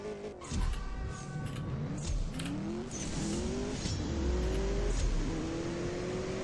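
A BMW M8 Coupe engine revs hard in the CSR2 racing game, climbing in pitch and dropping back with each gear shift several times in a row, loud and continuous with no voices over it.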